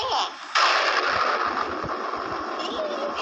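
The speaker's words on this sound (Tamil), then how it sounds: "என்ன சத்தம்? என்ன இடி இப்படி இடிக்குது?" A sudden loud crash of cartoon thunder followed by a long dense rumble that stays steady and close, with faint low thumps underneath.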